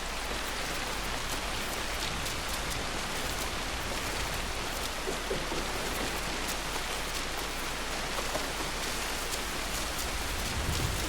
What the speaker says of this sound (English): it's raining like hell